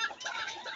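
A rooster, an aggressive farm cockerel, clucking in short rough bursts, fairly close and steady through the moment with no talk over it.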